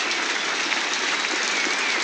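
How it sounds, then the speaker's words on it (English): Steady, dense applause from the crowd at Ballymore rugby stadium after a 1973 Tonga versus Australia test match, a continuous wash of clapping heard from a distance without pauses. "And generous applause from everyone here at Ballymore"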